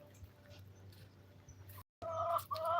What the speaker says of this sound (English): Beware of the chicken.